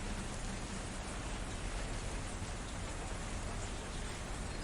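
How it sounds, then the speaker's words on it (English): Heavy rain pours steadily at a sheltered bus stop, a dense unbroken hiss of drops at moderate, constant volume with no voices. "I said the rain has picked up quite a lot."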